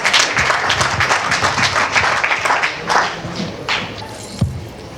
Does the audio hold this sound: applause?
yes